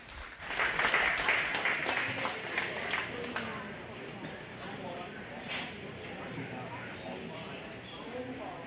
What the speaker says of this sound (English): Give her a nice, good round of applause.